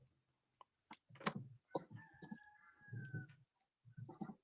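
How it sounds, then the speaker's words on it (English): A rooster crows faintly at a distance, a single drawn-out call in the middle, surrounded by scattered clucks and soft clicking sounds in an otherwise quiet room. "Was that your rooster?"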